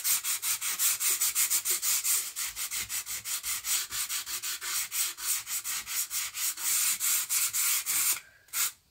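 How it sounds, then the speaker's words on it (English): Sandpaper rubbed by hand over a wooden canvas frame in rapid, steady back-and-forth strokes, a close, dry rasping that runs continuously before stopping briefly near the end. "Sandpaper. You want to just smooth this out."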